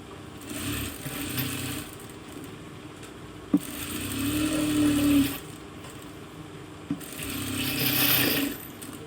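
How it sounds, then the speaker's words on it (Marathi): Sewing machine stitching all four sides of a folded fabric patch for a band gala blouse, running in three steady whirring bursts with short pauses and a couple of sharp clicks between them. "स्टिच करून घेऊ चारी बाजून याला स्टिच करूया"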